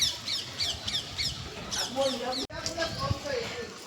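Parrots squawk in a quick repeated run of sharp calls close by during rain and wind, then a few more scattered cries, with a person talking over them.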